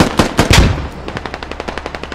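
Machine gun fire in the video game Squad: a few heavy, loud booming shots up front, then a quick even burst of about a dozen sharper cracks in rapid rhythm, with no voices.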